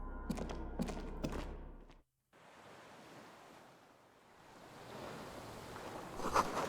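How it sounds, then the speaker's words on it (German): Water rushing far below in the video game Disco Elysium, heard as a broad, steady wash like surf. A few clicks come first, then a brief dropout, before the water swells back in. "Unten rauscht das Wasser, sehr weit unten."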